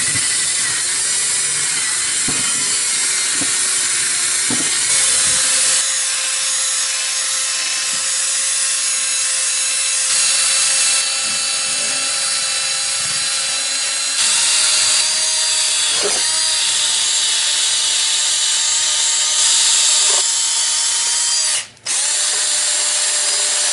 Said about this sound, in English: take a drill with a wire brush, hand sandpaper it, whatever you need to do, and try to get that out of there